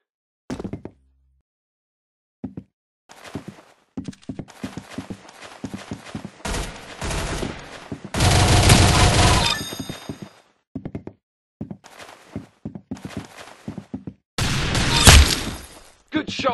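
Gunshots in a video game, a series of sharp loud reports and knocks scattered through the stretch with a couple of dense noisy bursts, set against near-silent gaps, with a voice talking in places.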